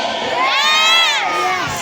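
A large crowd with many children cheers and shouts together at a sea lion show at Manila Ocean Park, a loud sustained roar of voices that swells in the middle and tapers off.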